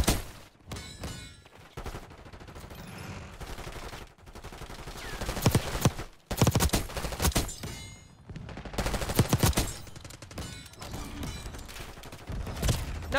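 Rapid gunfire in the Black Ops 6 open beta, mostly from an energy weapon called the Zapper 3000, comes in loud, dense bursts and volleys with brief gaps, close and continuous over about thirteen seconds with no talk.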